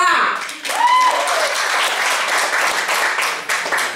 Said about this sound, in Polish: Wielkie, wielkie brawa, słuchajcie.